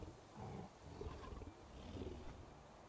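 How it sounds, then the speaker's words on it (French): A leopard in the video game Survival: Fountain of Youth growls low and rough in several rumbling bursts, fairly quiet and alone with no talk. "On aurait dit un léopard. Un tigre? Non, ça c'est un léopard."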